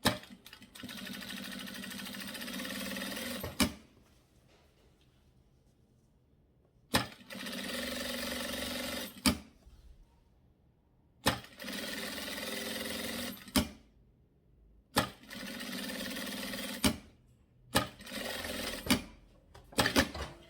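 A sewing machine runs in several bursts of a few seconds each, with short pauses between, stitching back and forth at the start and then along the fabric base of a cable organizer.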